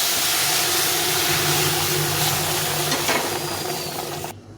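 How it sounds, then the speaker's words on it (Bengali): Black mustard seeds tempering in hot oil, a steady loud crackling sizzle and hiss close up that runs without a break and stops abruptly at the end. "এটা কালো সর্ষে তো সর্ষেটা একটু ফোড়নে ফুটিয়ে দিতে হবে"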